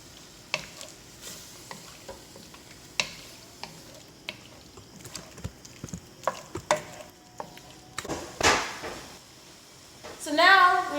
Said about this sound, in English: So now we're going to mix all of it up.